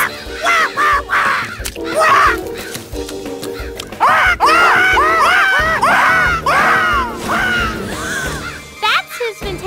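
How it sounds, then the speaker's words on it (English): Cartoon berry birds from a Strawberry Shortcake animated film squawking in a flurry of repeated harsh, wavering calls, some overlapping, loud and close, with short gaps between bursts. "Berry birds!"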